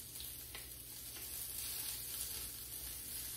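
A salmon fillet sears in a hot pan with a steady, even sizzle of frying oil throughout, close and moderately loud, with no talking.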